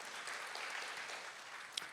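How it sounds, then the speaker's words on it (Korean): A church congregation at a Korean baptism Bible study applauds, a faint, even wash of many hands clapping steadily from a distance, with one sharper clap standing out near the end. "박수 보내주십시오"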